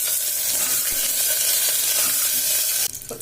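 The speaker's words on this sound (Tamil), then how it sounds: "தாளகம் நல்லா பொரிஞ்சிருச்சு. கருவேப்பிலை சேர்த்துக்கலாம்." A loud, continuous sizzle of tempering spices and green chillies frying in hot oil fills the scene, steady and close, with a brief stir near the end.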